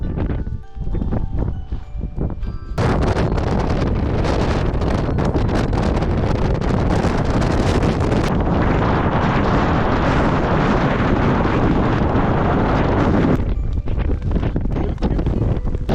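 Strong wind roaring across the summit of Mount Fuji amid cloud turbulence, a loud continuous buffeting on the microphone that swells after a few seconds and holds, easing briefly near the end.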